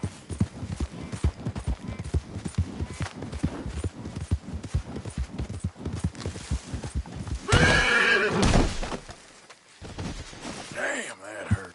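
A horse in Red Dead Redemption 2 galloping with rhythmic hoofbeats, then a loud close neigh and snort partway through, with a person talking over the action.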